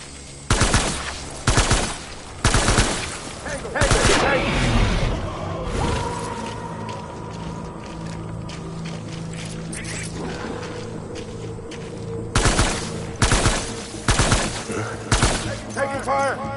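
Rapid gunfire bursts from the video game Death Stranding, loud and close, repeating in clustered volleys at the start and end with a sustained droning layer between them.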